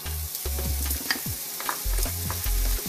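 Bacon and onions frying in a pan with a steady sizzle, broken by the scrape and clatter of stirring at irregular moments; close and fairly loud, no voices.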